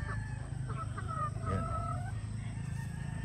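Boston Roundhead hens cluck and murmur close by over a low background rumble, with a few brief higher calls in the middle.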